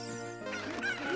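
A chicken clucks in the video game Zelda: Ocarina of Time, short squawky cackling notes over a steady droning game soundtrack, moderately loud.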